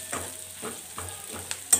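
Spices stirred into a potato dish frying in a pan: a steady sizzle with about four rhythmic scraping strokes of a spoon, close and moderately loud, and no talk.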